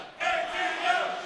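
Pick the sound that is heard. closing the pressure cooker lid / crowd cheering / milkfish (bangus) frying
crowd cheering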